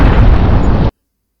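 A trimmed explosion sound effect for an asteroid collision in a Scratch space shooter game: a loud, dense, rumbling blast that holds for under a second and then cuts off abruptly into silence.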